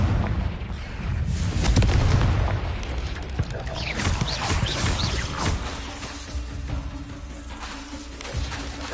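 A Confringo blasting spell in Hogwarts Legacy, heavy booming blasts and crackling bursts layered over rumbling battle noise, loud and sustained through the clip, with a voice speaking under it.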